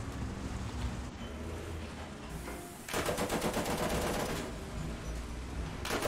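A .50 cal machine gun rattles in War Thunder: distant rumble first, then a sustained rapid burst of fire that lasts several seconds and tapers off.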